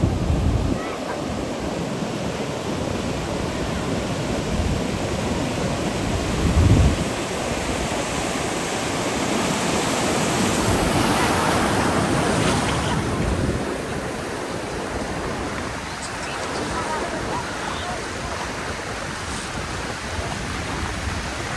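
Continuous roar of ocean surf breaking along Smith's Beach, Flinders Island, Australia, steady and broadband, with wind buffeting the microphone throughout.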